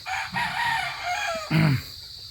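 A rooster crows close by on a farm, one long cock-a-doodle-doo rising and then falling into a lower drawn-out final note, with no talking.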